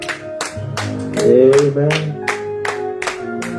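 Rhythmic hand clapping from a church congregation, steady beats about every third of a second, with voices talking and calling out over it.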